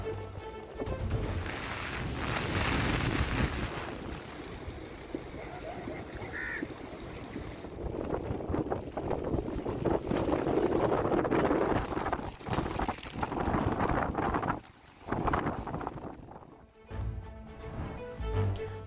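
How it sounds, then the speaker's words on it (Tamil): Rough sea whipped up by Cyclone Ditwah pounds the shore at Karaikal, with a strong wind roaring steadily and loudly through the whole stretch. "டிட்வா புயல் காரணமாக காரைக்காலில் கடும் கடல் சீற்றம் ஏற்பட்டுள்ளது"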